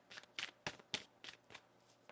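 Soft, papery riffling bursts of tarot cards being shuffled by hand repeat in an uneven rhythm, close by and fairly quiet.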